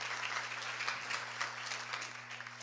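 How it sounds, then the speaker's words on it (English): Audience applause at a TEDx event, a soft, dense and steady spread of clapping heard at a distance for a couple of seconds, with a low electrical hum beneath. "So round of applause for that."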